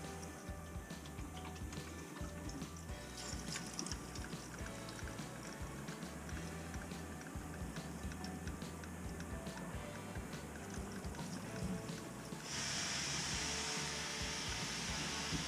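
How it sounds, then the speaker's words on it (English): Steady broadband rushing and hissing of air forced through hydronic heating and domestic water pipes during purging, growing louder and brighter near the end as water pushes through. "you can hear the air, it's pushing the air"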